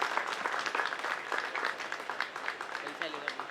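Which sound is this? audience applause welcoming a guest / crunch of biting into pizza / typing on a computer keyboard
audience applause welcoming a guest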